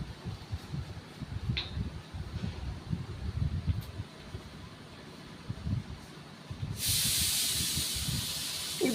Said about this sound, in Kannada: ನೋಡಿ ಕುದಿ ಬರ್ತಾ ಇದೆ.